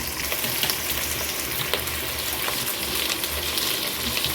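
Thinly sliced onions fry in oil for biryani, giving a loud, continuous bubbling sizzle with a watery, splashing texture and occasional soft stir clicks, close up and without any voices.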